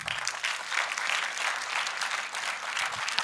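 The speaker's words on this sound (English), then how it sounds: "Clap to the first lady." An audience at a university event claps for the first lady in a continuous, bright burst of many hands, steady and moderately loud from start to finish.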